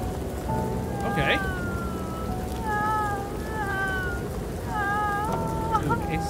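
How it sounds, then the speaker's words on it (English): In the horror game Silent Nights, a grandmother's thin, wavering wail like a cat in pain rises and falls several times over a constant hiss like rain. "Grandma sounds like a cat in pain."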